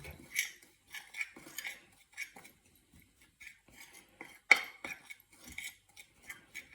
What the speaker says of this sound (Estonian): Nüüd selle asja siin, selle mellu segan kõik segamini.